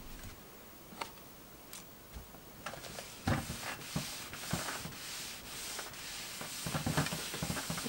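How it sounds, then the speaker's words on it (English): A clothes iron's soleplate is rubbed against a cleaning cloth with a soft, steady scraping hiss, broken by scattered light ticks and knocks that grow busier toward the end, close and fairly quiet. "you guys don't need to watch me using my iron, rubbing it against a cloth for 20 straight minutes"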